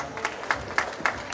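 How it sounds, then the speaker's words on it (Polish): A small audience at an indoor quiz gives a short burst of rhythmic hand clapping, four or five distinct claps in quick succession, fairly close. "Brawa dla Miłosza."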